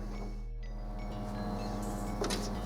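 An HP PageWide 352DW printer runs a printhead cleaning cycle, giving a steady low mechanical hum with faint whirring and a brief higher servicing whir near the end, without talk.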